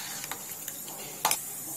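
Dal with jaggery simmers in a pot on the stove, giving off faint, scattered bubbling pops and ticks, with one brief louder burst near the end.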